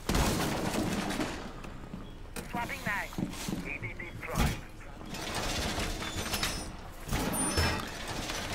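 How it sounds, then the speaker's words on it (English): A weapon magazine reload in Rainbow Six Siege sounds as a cluster of mechanical clicks and clacks over steady game noise, with people talking throughout. "Swapping mag."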